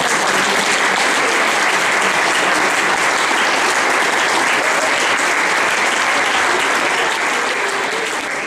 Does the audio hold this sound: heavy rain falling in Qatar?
no